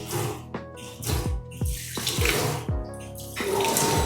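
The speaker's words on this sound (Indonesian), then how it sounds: "Dan di sini ada sensor juga untuk keran pencuci airnya." A sensor-operated tap on a stainless steel surgical scrub station runs water into the basin, a close splashing gush with shifting bubbly streaming and short bursts as the flow is interrupted.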